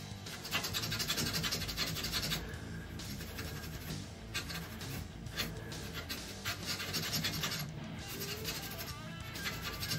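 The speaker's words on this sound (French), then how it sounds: "Un petit coup de laine d'acier autour du trou de serrure" Steel wool rubbed around a keyhole on varnished wood, a continuous close scratchy rasping in short repeated strokes, fairly quiet and steady.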